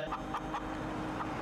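A chicken in a farm video game clucks in short, evenly spaced bursts over a constant, dense background hum.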